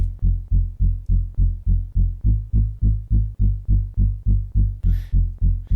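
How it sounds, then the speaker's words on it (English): A deep synth bass arpeggio pulses in steady, rapid eighth-note throbs, each note swelling and fading in an even rhythm, loud and alone. "it's a really low pulsing bass"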